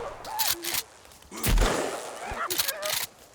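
Warning gunshots fired in the survival video game Sons of the Forest: a few sharp, loud bursts of game gunfire, with a heavier blast near the middle, while someone talks over them.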